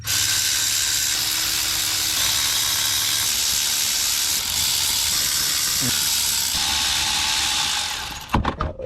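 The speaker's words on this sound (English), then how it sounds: "So we should just be able to take out these 6 bolts and kind of wiggle the mechatronics out." Power tool whirring steadily on the transmission mechatronics bolts of a supercharged Audi, a loud continuous mechanical drone that runs almost unbroken before cutting off near the end, followed by a few brief clanks.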